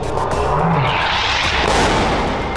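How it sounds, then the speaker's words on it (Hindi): A loud blast in Tel al-Hawa, Gaza, near a hospital building, heard as a sustained roaring rumble with dense broadband noise that swells and rolls on for a few seconds. "बीती रात गाजा के तेल अल हवा में जोरदार ब्लास्ट हुआ।"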